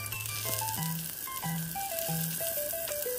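Pointed gourds fry one after another in hot oil in a frying pan, making a steady, even sizzle that runs beneath a continuous melodic background tune.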